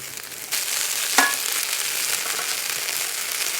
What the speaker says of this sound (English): pour the brandy quickly over the meat and into the pan